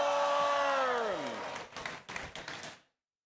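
Crowd at a robotics competition event cheering and clapping for the teams, starting after a sustained drawn-out call and rising in bursts of applause and whoops that fade out by the end.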